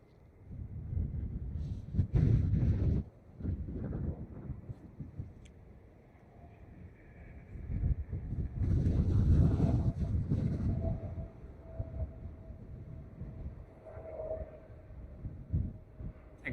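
Gusty wind buffets a microphone at Dublin Airport, with heavy low rumbling surges that rise and fall over a continuous roar and steady airport noise in the background.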